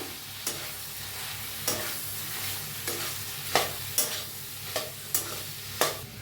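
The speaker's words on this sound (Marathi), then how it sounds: "बनवून घेतलेलं शेंगदाण्याचं कूट हलवून घेऊया।" A spatula stirs chopped tomato and crushed roasted peanut powder through bitter gourd sabzi in a pan, with about eight distinct scraping strokes at an uneven rhythm over a low steady hum. The scrapes are close and moderately loud, and no one speaks.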